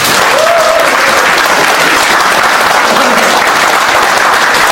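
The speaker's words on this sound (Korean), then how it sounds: "민주실현 시민운동본부 창립총회를 여러분의 큰 박수로 시작하도록 하겠습니다" Loud, dense applause from a large audience fills the hall at the opening of a civic movement's founding assembly, steady and sustained throughout without any talk.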